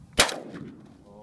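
A single close gunshot from a 5.56 rifle cracks sharply, then trails off in a short fading echo, with no talk.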